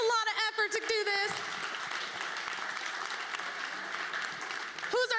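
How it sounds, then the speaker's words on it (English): An audience bursts into sustained applause at a speaking event, steady crowd clapping for several seconds, with a speaker's voice heard just before it and again as it ends. "Everyone give him a round of applause."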